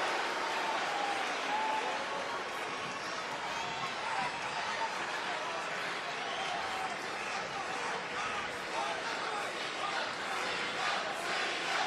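A wrestling arena crowd at a SmackDown show cheers and roars in a dense, sustained wash of noise that stays loud throughout with no breaks.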